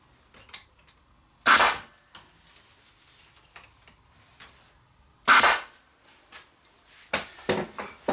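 Nail gun shooting a floating shelf piece into place: three sharp, loud pneumatic bangs spaced several seconds apart, close up, with faint handling knocks and taps between them.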